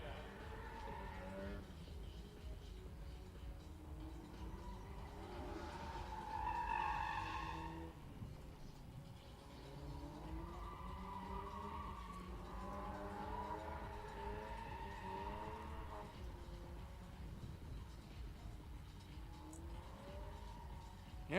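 A Mazda Miata drift car at a test-and-tune day at a drift track revs hard through long slides, its engine rising and falling while the tires squeal at a moderate distance.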